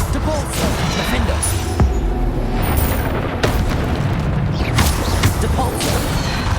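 Spells cast in the video game Hogwarts Legacy land as a steady run of booms, crashes and blasts over a dense, roaring combat background, with a voice speaking throughout.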